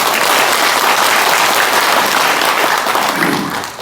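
An audience at a book launch event applauds, a dense, loud burst of clapping from many hands that holds steady before tapering off at the end.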